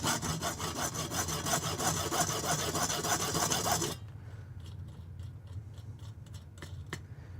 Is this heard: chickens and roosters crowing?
no